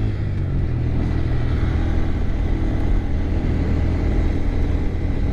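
A 2022 Honda Grom motorcycle engine drones steadily and loudly while riding through a neighborhood, a continuous low rumble with wind noise and no talking.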